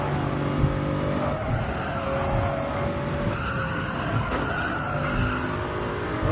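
Toyota Supra GR3 race car in a racing video game, braking at Tokyo South with tire squeal and a skidding hiss over a steady engine drone, loud and continuous throughout.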